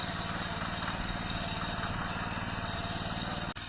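A tractor engine working a farm field, with birds following it; the motor drones steadily and loudly throughout, a low continuous rumble with no pauses.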